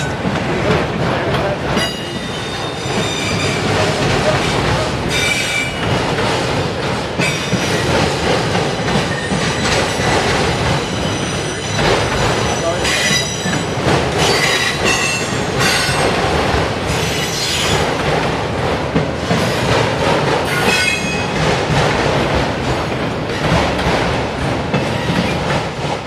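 CN yard job train with classic locomotives rolling on the rails near Homewood, Illinois, with steady loud wheel rumble, rhythmic clickety-clack over rail joints and intermittent high wheel squeals, close by and continuous with no talk.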